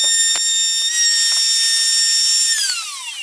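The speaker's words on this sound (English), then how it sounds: "My router is right on the table." Wood router mounted on a router table, running at a high, steady whine that is loud and close, with a few brief tapping sounds near the start and a pitch that drops as it spins down at the end.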